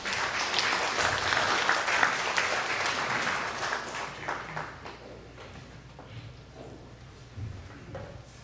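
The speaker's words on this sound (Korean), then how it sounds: "여러분들 박수를 부탁드리도록 하겠습니다" Audience at a housing association project presentation breaks into applause, a dense clapping burst that gradually thins and fades into scattered claps over several seconds.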